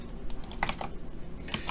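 Computer keyboard keys pressed during a PowerPoint exam walkthrough, a few quick soft clicks and taps, close and fairly faint, with no talking.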